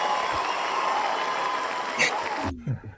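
Cheering and applause from a soundboard audience play as a steady crowd roar that cuts off abruptly near the end, after which a voice briefly speaks.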